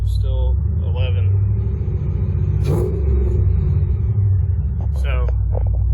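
A Ford Mustang GT V8 engine idling with a deep, steady low rumble that stays loud and constant throughout, while a person talks over it. The car has a new battery and alternator and an unresolved running fault.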